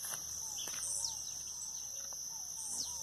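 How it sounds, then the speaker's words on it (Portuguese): Many birds singing at dawn on a farm, with scattered chirps and short whistled calls over a steady high insect-like hiss, fairly faint and distant. "São muitos passarinhos."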